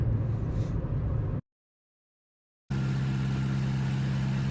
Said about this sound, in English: Here I'm sending fuel to the engine to get the engine started